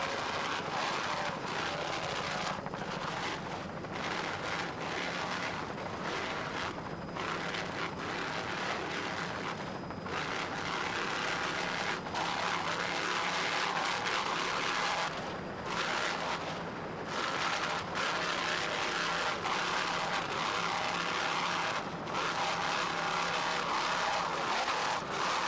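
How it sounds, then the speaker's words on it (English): Two 925 hp Cobra Power inboard engines drive an open V-class offshore racing powerboat at the 1994 Key West Superboat Grand Prix, a loud sustained roar with surging, fluctuating pitch as the boat runs and jumps, no voices. "These two 925 horsepower Cobra Power inboards sound"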